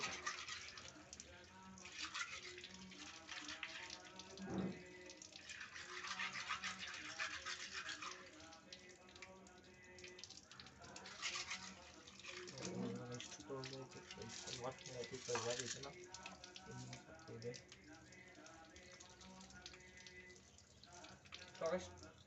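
Water runs and splashes while a fish tub is scrubbed and washed, a continuous close washing noise with scraping and rubbing, with a voice talking over it at times.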